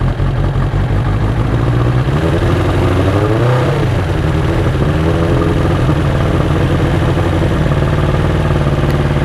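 A 1992 Suzuki Katana 750 (GSX750F) motorcycle, not run in a while, warms up on choke with a loud, steady close idle, a couple of brief revs rising and falling midway before settling back.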